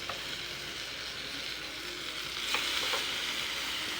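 Pork chop sizzling on a grill, a steady close crackling hiss that holds throughout and grows slightly louder and busier near the end, with a few sharper pops.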